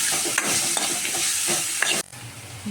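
Onions frying in a pan with a pinch of salt for a drumstick-leaf curry, a bright steady sizzle with a few utensil scrapes, close and loud, then cutting off abruptly to a quieter hiss near the end.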